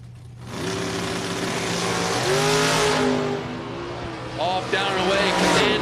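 Camaro Roadster and Mustang drag race launch at a drag strip: loud, close engines roar steadily and then climb in pitch through the gears, with an announcer talking over them throughout.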